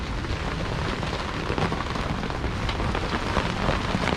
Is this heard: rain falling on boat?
yes